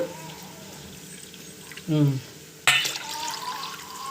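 Coconut milk is poured into a pot while making a meal maker vegetable pulao: a short liquid gurgle, then a sharper splash and a steady pour, with a faint murmur in the background.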